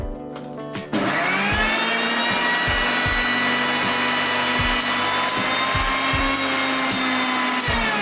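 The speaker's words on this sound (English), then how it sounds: "Blend them well." An electric blender switches on after a second and runs loud and steady, whirring through strawberries, sugar and chilled milk, with a faint rhythmic knocking beneath the motor's hum.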